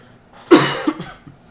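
A single harsh cough bursts out near the mic, followed by a couple of softer throat-clearing coughs tapering off, with no talk around it.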